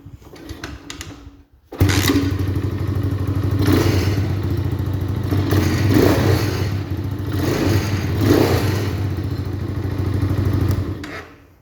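A motorcycle engine cranks and catches after a brief quiet rattle, then runs loud and close with an uneven idle and occasional throttle swells, no talking over it.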